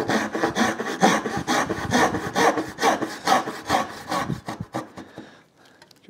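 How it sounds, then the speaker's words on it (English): A hand saw cuts dovetails in wood down to a marking gauge line, with steady back-and-forth rasping strokes, close and loud, that slow and then stop near the end. "you want to be able to take your saw cuts to the marking gauge line"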